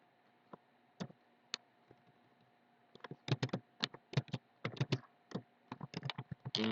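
Typing on a computer keyboard while entering course content into a learning management system: a few sparse key clicks at first, then a quick burst of close, crisp keystrokes in irregular rhythm, with no talking.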